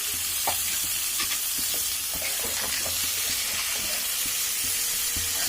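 Rohu fish pieces with turmeric go into a hot pan of sautéed spices, giving a steady close frying sizzle and hiss with occasional stirring clinks and scrapes throughout.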